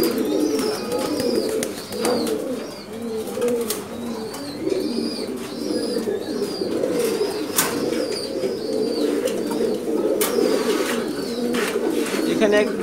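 Chakra pigeons in a breeding loft keep up dense, overlapping cooing close by, with sharp higher calls and occasional clicks; a voice talks intermittently over the birds.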